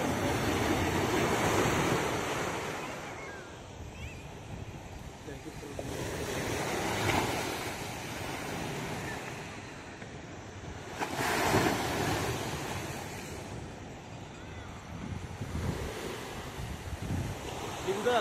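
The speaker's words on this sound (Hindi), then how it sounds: "समुंदर की लहरें।" Sea waves break and wash over a rocky beach in Puducherry, a steady roar that swells and falls in long surges, with gusts of wind buffeting the microphone and a voice speaking now and then.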